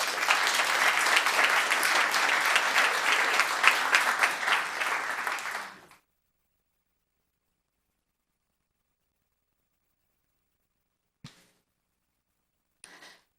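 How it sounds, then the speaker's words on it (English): A council meeting audience claps in a steady, full round of applause for about six seconds before it tapers off, followed by silence and a couple of faint, brief bumps. "one more round of applause for her."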